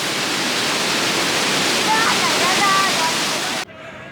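Clear, cold mountain water rushes loudly and steadily in Solang Valley, with faint voices underneath, then cuts off sharply near the end.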